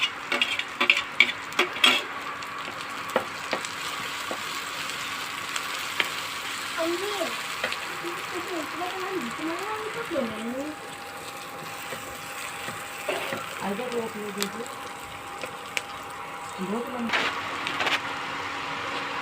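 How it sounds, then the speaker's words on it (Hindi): Green chilies, slit and finely chopped, sizzle steadily with cooked onions in a pan for a sweet-and-spicy savory dish, a continuous close frying hiss with occasional stirring clicks while someone talks over it at times. "अब मैं ये इसके अंदर हरी मिर्च डाल दूँगी"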